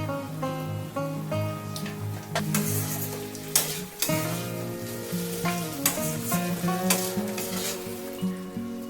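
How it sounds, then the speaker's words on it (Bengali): Fish heads, already fried, sizzle in a pan of spices for a Bengali moong dal, with steady frying crackle, clinks and stirring scrapes running throughout and a few sharper knocks. "এবার আমি এর মধ্যে যে মাছের মাথাগুলো ভেজে রেখেছিলাম সেগুলো দিয়ে দিই।"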